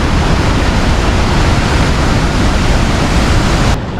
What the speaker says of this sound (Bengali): এই যে দেখুন নাফাখুম জলপ্রপাতটা দেখা যায় এখান থেকে।